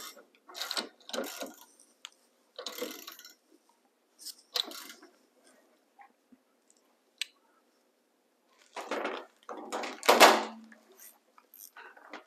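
A tie rod end being tightened on an MGB steering rack, heard as bursts of ratcheting clicks from a hand wrench separated by pauses, close and fairly quiet, with an isolated click in between.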